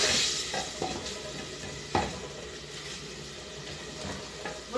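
Rice fries with colorau in a pan, giving a steady loud sizzle and crackle with occasional scrapes and stirring clatters against the pan.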